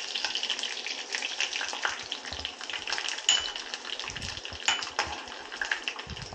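Mustard seeds fry in hot oil for a radish pickle with curry leaves, giving a steady, close crackling sizzle with small popping spatters throughout.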